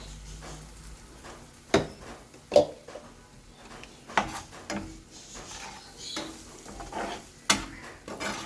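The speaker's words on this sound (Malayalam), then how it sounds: "ഇനി നമുക്ക് ഈ അരപ്പ് ഇതിലേക്ക് ഒഴിച്ചു കൊടുക്കാം." Masala paste for paneer masala is poured into a pan and stirred, giving a quiet scraping and soft sizzle broken by several sharp clinks of a spoon against the pan at irregular intervals.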